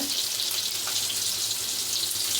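Masala-coated fish pieces frying in hot oil in a pan, giving a steady, close sizzle that holds at the same level from start to finish with no voices.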